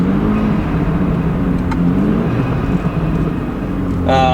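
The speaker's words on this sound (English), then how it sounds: "You guys can kind of hear what the car sounds like." A tuned BMW F30's loud engine rumbles steadily with a deep exhaust tone, holding a constant drone throughout without talking.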